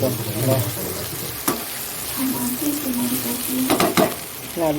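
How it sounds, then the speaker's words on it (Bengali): Nigella seeds and dried chillies sizzling in hot oil for a tempering, a loud close crackle with stirring scrapes and a few spoon knocks on the pan. "এখানে কালো জিরে ফোড়ন দিয়েছি আর শুকনো লঙ্কা ফোড়ন দিয়ে"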